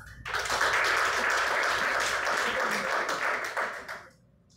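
An audience at a Toastmasters youth leadership meeting claps for the evaluator coming on stage. Dense, sustained clapping starts abruptly, holds strong for several seconds, then fades out.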